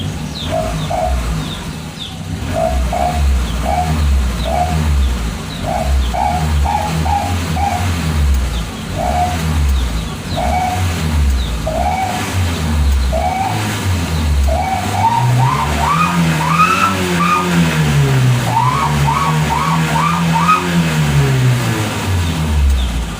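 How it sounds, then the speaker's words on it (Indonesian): A petrol car engine idles and then revs repeatedly through an HKS Srigala exhaust, rising and falling, while birds chirp and coo nearby. "yang ini knalpotnya yang bunyi"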